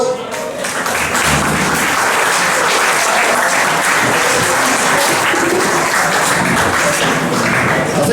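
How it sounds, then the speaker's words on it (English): Audience at a bowling club's Saturday night concert breaks into sustained, loud applause, dense clapping filling the whole stretch evenly with no voices standing out. "so please give them a big round of applause."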